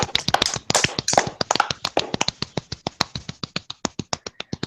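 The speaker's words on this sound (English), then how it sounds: "I will clap to that." Hand clapping from one person, a steady run of about thirty sharp, close claps that speed up early then settle into an even rhythm, with nothing else heard.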